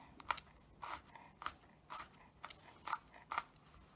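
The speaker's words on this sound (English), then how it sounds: "in the back end of my knife, I'm just going to cut down, but making much smaller, finer" A kitchen knife taps down repeatedly on a cutting board, finely chopping garlic with its back end, about eight quiet, crisp cuts in an uneven rhythm with nothing else around them.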